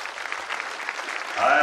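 A crowd at a Menstrual Hygiene Day celebration at Busia Polytechnic gives a short burst of applause, a dense steady patter of clapping. A voice starts speaking over it at the very end.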